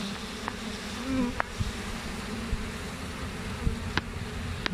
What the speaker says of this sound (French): ça bourdonne beaucoup là